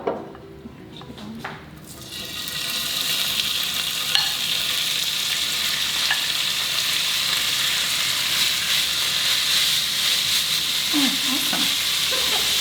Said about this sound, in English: That's one of the tricks, is a hot pan for fajitas. Then add the meat.